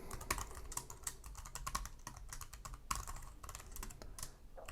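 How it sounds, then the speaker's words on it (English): Fast, uneven typing on a computer keyboard, with quick clusters of close, crisp key clicks and short pauses, heard alone without speech. "my copy and paste doesn't work, so I'm going to have to just type this out"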